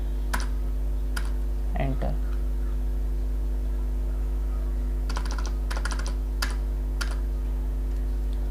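Computer keyboard keys are pressed for a Ctrl V paste and then Enter: a short cluster of crisp, close clicks early on, then a sparser run of separate taps over a steady low electrical hum.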